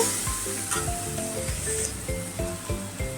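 A Marathi-style tempering for shengole bhaji sizzles steadily in a pan, a continuous hiss with soft crackles running throughout, fairly close and without talk.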